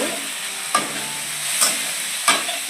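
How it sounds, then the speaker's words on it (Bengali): Chopped tomatoes and ginger paste sautéed in a pan for a vegetarian dish give a soft, constant frying hiss, with three sharp spatula scrapes spread across it, near and without speech. "দিয়ে আবার কিছুক্ষণ কষিয়ে নিতে হবে, যাতে টমেটোগুলো যেন ভালোভাবে ভেজে যায়"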